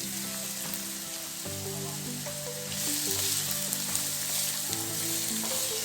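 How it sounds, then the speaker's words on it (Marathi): Chopped onion fries in a pan that already holds lightly roasted chillies while a red amaranth leaf vegetable dish is prepared. A steady, close sizzle runs throughout with no talking and grows slightly louder midway. "आणि कांदा मऊ होईपर्यंत परतून घेते"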